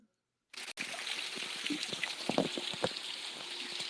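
Water trickles steadily on a farm, a continuous close splashing flow that starts abruptly and carries on with small irregular drips and gurgles, with no voices.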